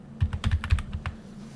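Fingers type a short name on a computer keyboard in a quick burst of close, crisp key clicks lasting about a second, with a steady hum behind them.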